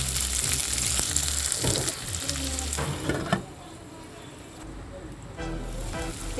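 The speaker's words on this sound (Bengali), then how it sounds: "দেখুন পেঁয়াজটা ভাজা হচ্ছে" Chopped onion frying in the leftover oil from frying chicken, with a loud, dense sizzle and occasional stirring bumps that drop to a quieter hiss partway through.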